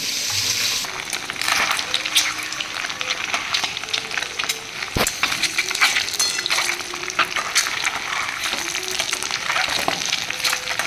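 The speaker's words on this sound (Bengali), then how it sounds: "ভাজা" Food fries in a pan with a continuous crackling sizzle up close, broken by a sharp clatter midway and occasional stirring sounds.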